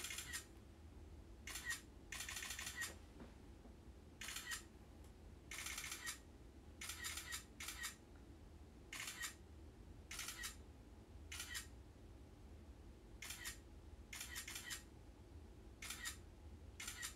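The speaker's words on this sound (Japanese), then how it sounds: "もういろんな角度からねもうバシャバシャバシャバシャバシャってね撮らないとね落ち着かないんですよ" Rapid bursts of a camera shutter firing in continuous shooting mode, about a dozen separate volleys of crisp clicks spread over the stretch with short pauses between them, fairly close over a low background hum.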